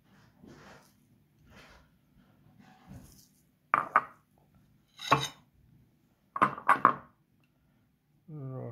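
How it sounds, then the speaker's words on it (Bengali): Onions dropped into a cooking pan give a few short, sharp sizzling bursts and clatters spaced across the stretch, close and moderately loud over quiet background hiss. "পেঁয়াজ দেওয়া হচ্ছে"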